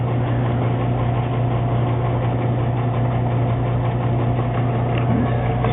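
A vacuum casting machine running, a steady droning mechanical hum with a strong low tone and even rumble, constant and close with no breaks.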